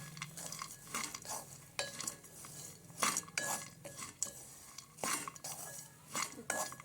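Dry fruits and coconut powder being stirred and roasted in a pan for coconut dry fruit laddu, with repeated scraping and metallic clinks of a spoon against the pan in an uneven rhythm, close and moderately loud.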